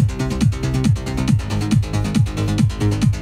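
Layered synthesizer bass lines with a slight FM tone play together in a studio mix, a loud steady pulsing groove of repeating descending note patterns, with no talk.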